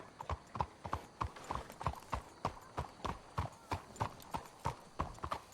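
Horses' hooves clip-clop at a steady walking rhythm in the Red Dead Redemption 2 video game, a clear, regular series of close hoofbeats with no talk.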